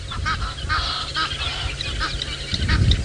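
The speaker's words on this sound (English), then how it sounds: "the Egyptian geese are letting their voices be known" Egyptian geese call repeatedly on an early morning safari drive, harsh honking cries in quick bursts, fairly close and loud over a rumbling outdoor background, with no one speaking.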